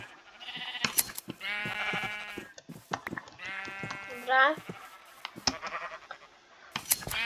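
Blocky Minecraft sheep bleat repeatedly in a flat game world, several wavering bleats close and fairly loud, interleaved with someone talking over them.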